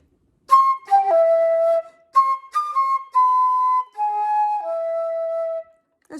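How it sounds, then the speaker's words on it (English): A solo flute plays the opening phrase of a jazz standard, a clear, breathy melody of sustained notes in a few short groups separated by brief pauses, close and fairly loud with no talking. "I'm going to try and play it on the flute because it's a C instrument."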